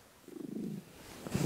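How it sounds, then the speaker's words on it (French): A cat purrs close to a microphone in a low, steady rumble that swells and fades in short breaths, with a brief louder burst near the end and no talking. "Voilà, on ronronne là-dedans."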